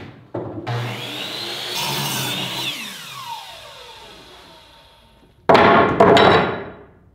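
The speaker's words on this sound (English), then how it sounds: "After cutting your board down to length, now we can cut it down to the proper width." A wooden board is cut to length for a homemade bow with a power saw, a whining cut that rises and slowly winds down, then a second short, loud burst of cutting near the end.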